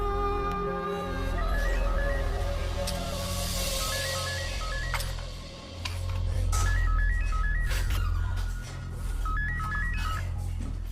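A telephone call being placed in a Hindi-dubbed action movie: repeated electronic ringback tones sound in short patterned bursts over a low background hum, with no talk over them.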